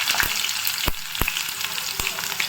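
Onion sizzling steadily in hot oil with mustard seeds and cumin for a green gram palya, a continuous bright frying hiss broken by a few sharp spatula taps and stirring knocks, close and loud with no talking.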